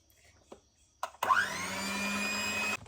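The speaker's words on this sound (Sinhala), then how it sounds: "මේ බටර් එක අපි හොඳට බීට් කරගන්න ඕනේ." An electric mixer beating butter, with a few soft bumps before the motor starts and then a steady, loud whir that holds until it cuts off.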